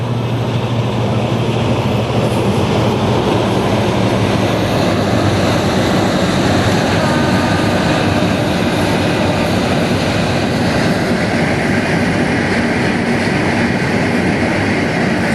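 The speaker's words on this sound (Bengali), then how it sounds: "একটা ট্রেনের হর্ন বাজতেছে, আমাদের ট্রেনটা চলে আসছে" A train rumbles steadily and loudly close by, a continuous roar of wheels and carriages with no voices over it, in Mirzapur, Tangail.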